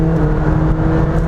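A McLaren 720S accelerates slowly on a highway with reduced boost, heard from inside as a loud, steady engine drone and whir with no talking.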